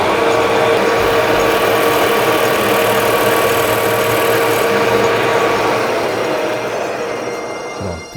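A power tool grinds steadily into hard metal to cut a seat before drilling, sounding as a loud, continuous droning whine with a humming tone, close by, that eases off near the end.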